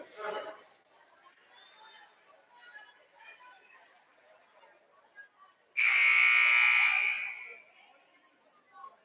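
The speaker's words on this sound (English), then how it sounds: "the buzzer goes off for some apparent reason" A loud, steady electronic buzzer blares for about two seconds in a high school gym during a volleyball match, a harsh tone cutting over the low chatter of the crowd.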